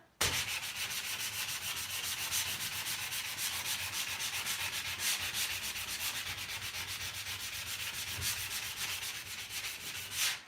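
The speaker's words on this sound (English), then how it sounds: "I'm going to take a really fine, this grit is 120, sanding sponge" Steady, continuous sanding of paint with a 120-grit sanding sponge, a fine gritty rubbing scrape that goes on evenly and close by with no pauses or voices.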